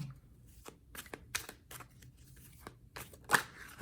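Tarot cards being shuffled and laid down close by, a run of crisp riffling slaps and flicks spaced irregularly, with one sharper snap near the end and no talk.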